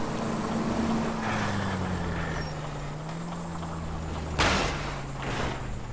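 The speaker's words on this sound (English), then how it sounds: "It's slowing down and it's making some hissing noises." A damaged car in the video game L.A. Noire slows down, a steady mechanical engine drone with a gliding low tone, broadband hiss throughout, and a brief louder burst of noise near the end.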